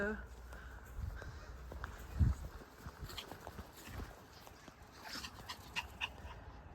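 Dogs out in a large garden, heard faintly as scuffling movement, light footsteps and a soft whimper against quiet outdoor background noise.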